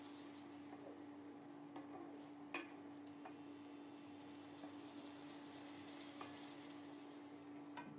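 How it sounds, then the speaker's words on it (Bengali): Sponge gourd (dhundul) stir-fried in a pan as its water cooks out, giving a steady, close sizzle with a few sharp clicks from the stirring utensil and no talking. "তারপরও নেড়ে চেড়ে কিছুক্ষণ কষিয়ে নিচ্ছি।"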